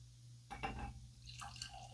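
J.T.S. Brown Kentucky bourbon whiskey, distilled in Bardstown, is poured from a bottle with a plastic twist cap into a glass. The pour comes as a short, close trickle with a few soft splashes, in quiet surroundings.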